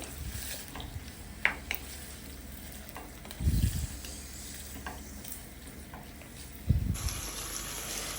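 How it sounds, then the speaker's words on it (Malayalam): Chicken searing in a hot pan with ginger garlic paste, a continuous close sizzle broken by a few louder scraping stirs of the spoon, no talking. "എന്നിട്ട് അത് നമ്മളൊന്ന് പത്ത് മിനിറ്റ് സിയർ ചെയ്തെടുക്കും"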